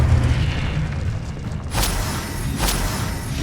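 Confringo blasting spell in Hogwarts Legacy: two sharp, loud explosive bursts about a second apart over a steady rumbling game background, no voices.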